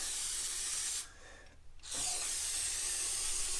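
Aerosol brake cleaner sprays onto a dump truck hub in a workshop: a loud, close, continuous hiss that cuts out briefly for about a second, then resumes just as strongly.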